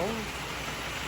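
Light rain falls steadily on a rural garden of young trees, a soft, even hiss lasting about a second, with a brief voice at the very start.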